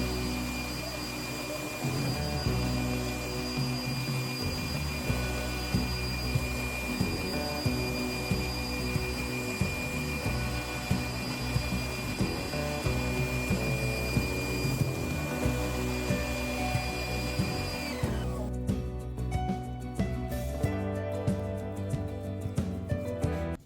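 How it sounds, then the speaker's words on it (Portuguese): A CNC router controlled with Mach3 cuts a small piece of wood about 30 mm thick, a loud steady spindle whine with a droning motor and rhythmic cutting pulses, and the pitch shifts near the end. "Vamos lá para a máquina agora, fazer a usinagem aí dessa pecinha."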